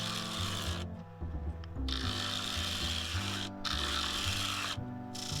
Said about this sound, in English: I'm using the spindle gouge there, and I'm just taking in the plate edge and making that rim defined